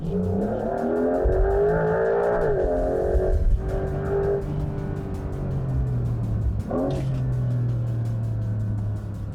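A Porsche 911 Carrera 4 GTS hybrid surges as it accelerates on a highway, the pitch climbing through gear changes with a brief dip, loud and close with road noise underneath.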